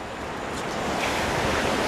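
Sea waves break and wash onto a beach in Spain, a broad continuous surf rush that swells toward the end, with some wind buffeting the microphone and no voices.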